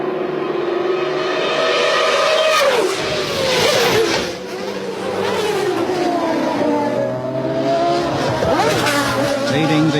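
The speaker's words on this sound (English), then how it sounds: "this fabulous duel between Peugeot and Toyota continues from the late afternoon through into the early evening." Peugeot 905 Evo1 LM and Toyota TS010 prototypes racing at the 1993 24 Hours of Le Mans scream past one after another, engines rising and falling in pitch as they approach and recede, loud and continuous with no talk over them.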